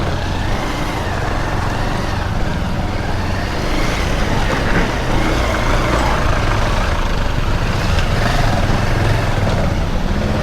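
A vehicle grinds along a steep off-road trail in the hills of North Bengal, its engine droning loud and steady throughout with constant rough rumbling and no pauses.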